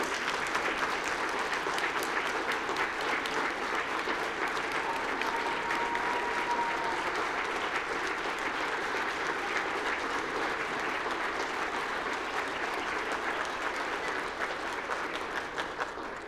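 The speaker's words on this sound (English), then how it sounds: "Let's give you all a round of applause" Sustained applause from a sizable crowd at an awards ceremony, steady and even throughout with no break, filling the room.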